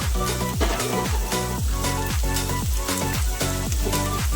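Pieces of pabda fish frying in a pan for a home-style Bengali fish curry, a steady loud sizzle with regular stirring or scraping strokes recurring about every half second.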